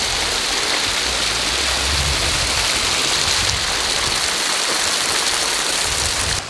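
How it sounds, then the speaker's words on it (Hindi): Irrigation water flows across a farm field from a flood irrigation line, a steady broadband rushing and gurgling like a stream that stays loud and constant throughout with no voices. "ये सीधा जो है फ्लड इरिगेशन से पानी जा रहा है,"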